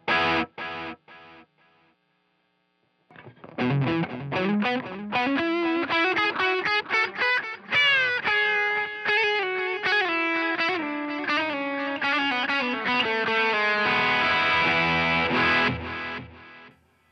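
Distorted electric guitar through a mono digital delay on a Fender Tone Master Pro, repeating echoes trailing each note, a brief pause early on, then steady sustained playing that swells louder near the end.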